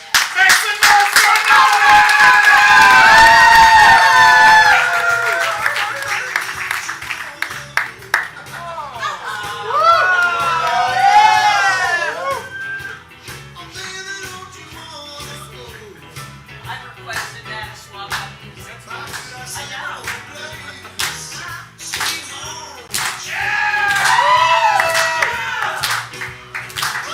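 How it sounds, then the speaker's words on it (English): Crowd at an improv comedy show claps and cheers in bursts, with loud whoops and shouting voices over scattered clapping, the noise swelling again near the end. "Get your hands clapping."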